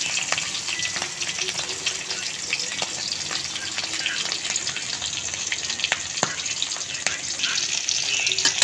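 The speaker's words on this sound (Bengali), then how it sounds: "এই যে মাছটা একটু হালকা ভেজে নেব।" Pieces of roe-laden Padma hilsa sizzle steadily in hot oil as they are lightly fried, a dense continuous crackle with scattered sharper pops throughout.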